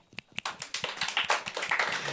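A few sharp claps start it off, then an audience at a live podcast recording breaks into dense clapping that builds and holds for about two seconds, moderately faint.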